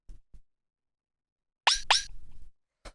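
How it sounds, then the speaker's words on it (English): Two quick bright synth bell tones ring out back to back, each bending in pitch, with a few soft low thumps before and a short clipped hit at the end, in minimal tech house style. "After that, we have this little bell,"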